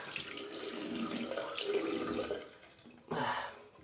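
Water runs from a bathroom tap into a sink during rinsing after a shave, a steady close splashing stream that briefly dips, then surges again.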